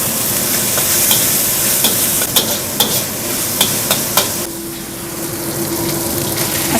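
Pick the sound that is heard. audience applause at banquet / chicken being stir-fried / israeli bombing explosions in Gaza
chicken being stir-fried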